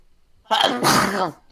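One loud, close sneeze in two parts, a sharp intake followed by a forceful burst, after a moment of quiet.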